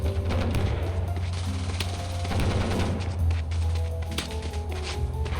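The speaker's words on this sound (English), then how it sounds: "now we finally decides to attack all those tanks" Tanks attacking in the strategy game War of Dots, with steady rattling bursts of gunfire over a constant low engine drone and scattered sharp pops, all at a similar level throughout.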